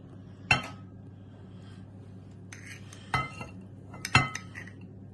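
A metal spoon clinks against a glass jar of pickled red cabbage salad in a home kitchen, giving three sharp, separate clinks with faint rattles and light scraping between them, close and clear against a quiet background.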